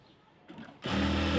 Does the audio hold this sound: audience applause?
no